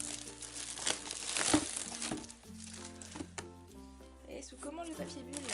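Bubble wrap around boxed Funko Pop figures being pulled off and crinkled, a busy run of crackling and rustling bursts, near and fairly loud, with short pauses between handfuls.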